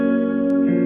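A guitar chord rings through a modulated reverb pedal, a loud, steady sustained tone with a faint shifting shimmer and a slight pitch change near the end.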